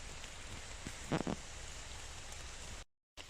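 Steady rain falls over a forest, a soft continuous patter on leaves throughout, with a couple of brief closer drips or rustles in the middle and a short dropout near the end.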